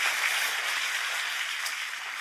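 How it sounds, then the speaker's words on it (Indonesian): A church congregation applauding during a service, a dense, steady wash of clapping that holds throughout at an even, moderately loud level. "Berikan tepuk tangan kita untuk Tuhan kita."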